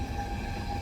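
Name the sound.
sleeper train moving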